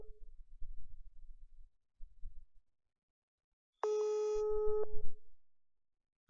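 A WhatsApp video call rings unanswered: after faint low rumbling, one steady electronic tone with harmonics sounds for about a second and a half, then stops and leaves quiet.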